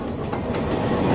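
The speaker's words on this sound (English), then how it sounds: "I think that might be a train." A train in the video game Jellyfish On A Train 2 rumbles past in a steady, loud rush of noise with no talking.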